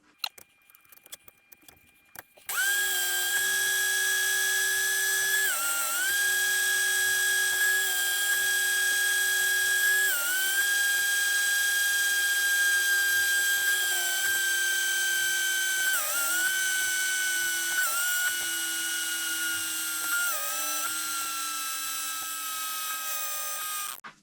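A chainsaw chain being sharpened with a grinding tool, a steady high-pitched whine running almost without pause and dipping briefly in pitch every few seconds as each tooth is ground, close and loud with no talking.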